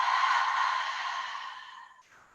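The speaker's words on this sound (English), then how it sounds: "And exhale." A single long exhale during a yoga cleansing breath, a soft close breathy whoosh fading out over about two seconds.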